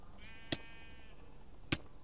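Two short sheep bleats in the video game Wynncraft, about a second apart and fairly quiet, over a soft background of game ambience.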